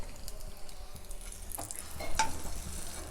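Unniyappam batter frying in hot oil, a soft close sizzle with scraping and light clinks of a utensil stirring in the pan, and a brief louder burst near the end.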